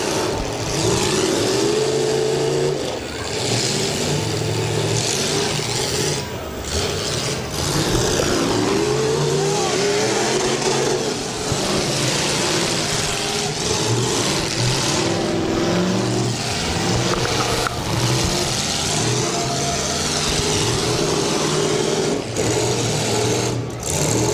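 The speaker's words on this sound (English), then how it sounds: "Still sounding pretty strong up under the hood of the FC40 of Scott Krieger." A pickup truck engine, the FC40, revs hard during a demolition derby heat at the Portage County fairgrounds, loud and continuous with rising and falling revs and other engines around it.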